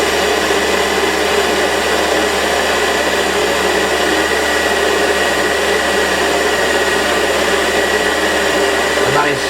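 The motor of a Warco WM180 lathe runs under load at about 1000 RPM while turning metal on a fine feed, producing a loud, steady whine that holds without pause and has no talking over it.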